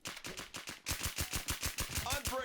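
Rapid automatic gunfire in a shooting video game, a fast even rhythm of loud close shots in two bursts, with a voice briefly speaking near the end.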